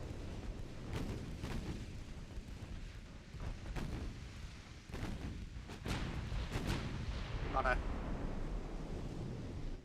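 Warship turret guns fire in a naval battle game, heard as a few distant, rumbling booms spread across a steady windy roar with scattered sharp cracks, while a voice speaks quietly at times.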